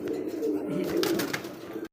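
Pigeons coo steadily in a loft, a low rolling bird call heard close and continuous before cutting off abruptly.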